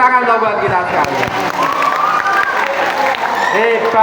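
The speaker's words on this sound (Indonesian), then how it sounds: "tepuk tangan dong buat kita sekalian" School audience at an Isra Mi'raj religious gathering in Ungaran applauding: loud sustained crowd clapping with children's shouts and cheers over it, and a voice faintly calling out through the noise.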